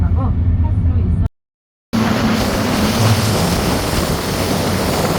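The roar of Iguazu Falls, heard from the Brazilian side: after a low vehicle rumble and a brief dropout, a loud, steady broadband rush of falling water takes over and holds unbroken.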